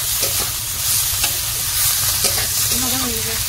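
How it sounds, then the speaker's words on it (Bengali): Peas and flat beans frying in a pan, a loud steady sizzle with scraping stirs, close up; a voice briefly speaks near the end. "ভাজা প্রায় হয়ে এসছে।"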